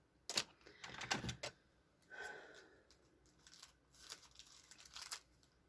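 A package being cut open by hand, several sharp close snips and crinkles of plastic wrapping in short irregular bursts, quiet overall with brief pauses between cuts.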